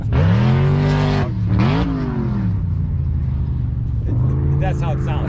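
Engine revs from a car running a straight-pipe exhaust with the catalytic converter cut out and welded shut, rising and falling in loud, raspy bursts close by, with someone talking over it.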